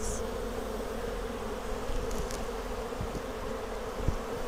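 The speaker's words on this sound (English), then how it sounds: "You can hear the tone of the bees has changed a little bit." Agitated honeybees hum in a dense, continuous drone at an open Flow Hive during a colony split, steady and close, with no voices over it.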